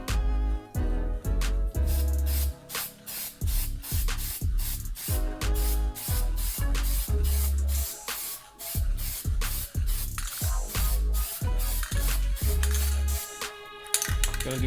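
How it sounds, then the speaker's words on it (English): Aerosol can of hammered black spray paint hissing in many short, close bursts, with rattles and knocks between passes as a custom wood display shelf is coated. "Now I'm ready to put this black. It's the same. It's like a hammered black"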